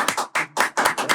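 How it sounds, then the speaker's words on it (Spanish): Applause on stage at a panel discussion on electric power barges, heard as a string of loud, close clapping bursts in a steady rhythm, each swelling and fading about twice a second. "un aplauso a todos"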